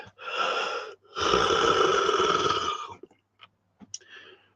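A big breathy yawn, a long airy inhale followed by an extended strained exhale lasting about three seconds, close to the microphone, then a few soft clicks and small mouth noises.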